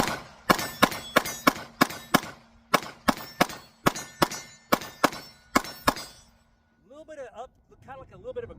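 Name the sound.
pistol rounds hitting steel targets downrange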